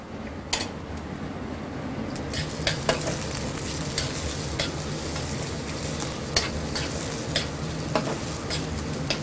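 Garlic frying in a pan for a Ramadan soup, a steady close sizzle with repeated scrapes and taps of a utensil stirring against the pan.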